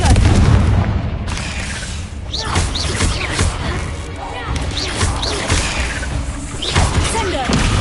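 Confringo fire spells blasting in Hogwarts Legacy, several loud booming explosions with crackling impacts and swooshes over a continuous game soundscape, with voices calling out the spell in between.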